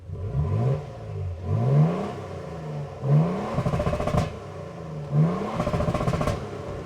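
Exhaust of a Toyota Tundra TRD Rally pickup with the TRD exhaust, revved up several times in bursts, each rise followed by crackling and popping on the overrun, loud and close with no talking.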